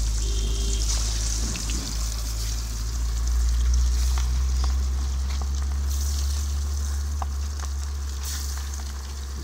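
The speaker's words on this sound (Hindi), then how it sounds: "तेल गरम हो गया, और एक एक पीस करके इसमें पा दे।" Fish pieces frying in hot oil give a steady, close sizzle and crackle with a low background hum, loud and continuous throughout.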